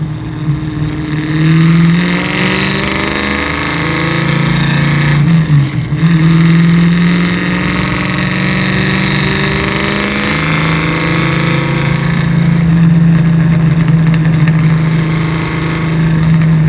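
A 550-horsepower 1963 Ford Falcon race car drives on steadily, its engine droning loud and close from inside with rising and falling revs, continuous throughout.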